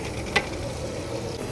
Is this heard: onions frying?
yes